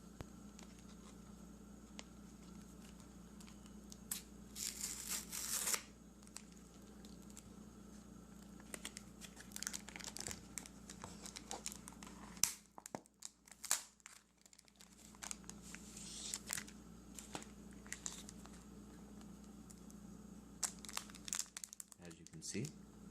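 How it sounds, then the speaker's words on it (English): A Pokemon XY Fates Collide booster pack wrapper crinkles and tears in close, quiet bursts of plastic rustling, with soft pauses between handling sounds. "we will be opening a Pokemon trading card game, X and Y Fates Collide Booster Pack"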